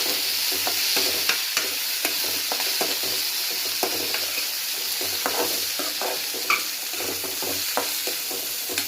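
Soaked black chickpeas fry and get stirred with onions in a pan, giving a steady sizzle broken by frequent scraping and clinking strokes of a spoon, close by with no talk.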